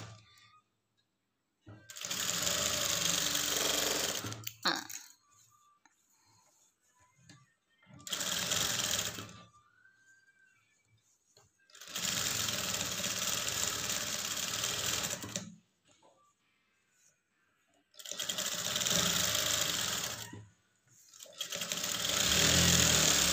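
A sewing machine stitches a lined blouse in four long, loud runs of steady whirring, separated by short quiet pauses, with the machine heard alone.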